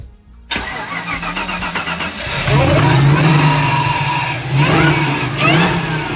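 A car with an LS1 V8 and LSA supercharger cranks and fires up, then settles into a loud, close rumbling idle with a couple of throttle blips and supercharger whine.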